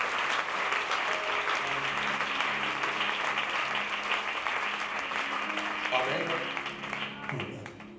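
A church congregation applauds loudly and steadily at a French-language sermon, the dense clapping fading slightly toward the end as voices and music begin to come through underneath.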